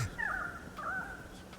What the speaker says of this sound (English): let's listen to that beautiful bird song